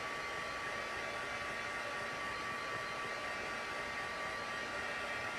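Heat tool blowing steadily on its first setting to dry ink on a paper craft lantern, a constant, even whooshing roar heard alone without pause.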